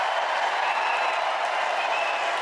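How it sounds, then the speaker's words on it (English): Sustained applause from a large convention audience, a dense, steady wash of many hands clapping at a loud, even level with no break. "I don't want this applause. I don't want it."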